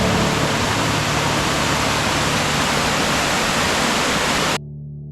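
Boaliya waterfall in the Mirsarai hills pours with a dense, constant roar of falling water that fills the scene until it cuts off sharply near the end, leaving only a faint low rumble.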